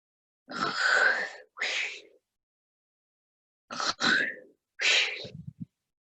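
A voice imitates a collie dog snoring loudly: long rasping inhales and snorts in two pairs, separated by a pause, ending with a fluttering snort.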